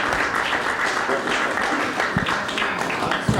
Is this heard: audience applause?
yes